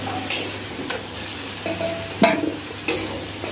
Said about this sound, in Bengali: এই তেলের মধ্যে আমি আলুটা ভেজে নেব